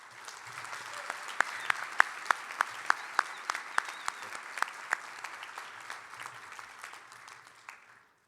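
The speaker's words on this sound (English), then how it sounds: "Please join me in giving these students another well-deserved round of applause." An audience at a sports awards ceremony claps for student athletes. The steady applause fills the room for several seconds, with sharper individual claps standing out near the front, then fades toward the end.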